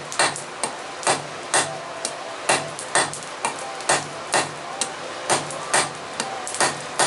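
Steady hammer blows ring on metal, roughly two strikes per second, sharp and close, with no talking.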